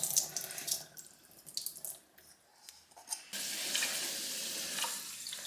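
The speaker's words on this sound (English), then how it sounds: "now we're going to have to drain the rice. Make sure that no rice itself falls out, as this is dirty water" Dirty water from washing rice is poured off into a kitchen sink, a thin trickling splash that turns into a steady, louder stream of running water halfway through, with no voices.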